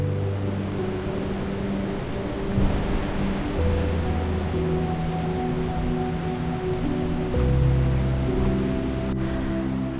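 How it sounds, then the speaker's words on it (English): A waterfall in the Lake District near Great Crag sends up a steady, broadband rush of falling water, continuous and fairly loud for the whole stretch with faint tonal hums threaded underneath. "I can hear the waterfall now on the left hand side"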